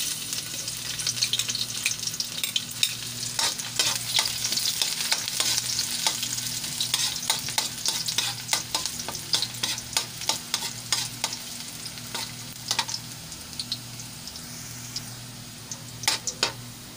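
Garlic frying in a pan for shrimp in coconut milk with string beans and moringa: a bright, steady sizzle with many quick crackles and a spatula stirring in bursts, close and loud.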